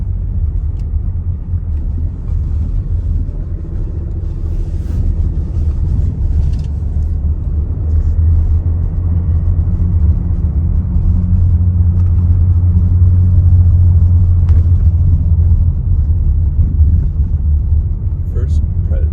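A car rolls over an old cobblestone road with a steady low rumble and road noise inside the cabin, while occupants talk over it throughout.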